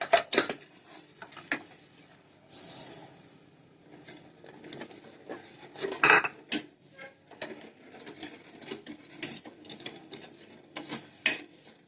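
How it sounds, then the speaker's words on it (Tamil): A spoon stirs sugar into boiling agar-agar in a metal pot for green grape jelly, giving irregular scraping and clinking against the pot with a soft bubbling bed beneath, close and fairly quiet. "இதை நல்லா மிக்ஸ் பண்ணுங்க. சுகர் வந்து நல்லா கரையட்டும்."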